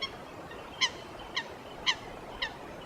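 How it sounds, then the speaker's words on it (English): Geese on the misty River Thames give four short, clear honks spaced about half a second apart, fairly distant against a quiet, hissy outdoor background. "Geese glide together along the calm surface of the river."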